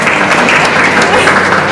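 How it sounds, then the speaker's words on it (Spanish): A church congregation at a quinceañera service in Ocotlán de Morelos, Oaxaca, applauding loudly and continuously, a dense close wall of clapping with voices mixed in. "Démosle fuerte el aplauso a la presencia de Dios"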